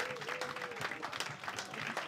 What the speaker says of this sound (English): Start clapping, start cheering